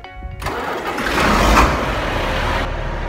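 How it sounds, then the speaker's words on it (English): A John Deere tractor engine cranks briefly, then catches and settles into a steady, loud rumble that continues to the end. "We're gonna start the John Deere."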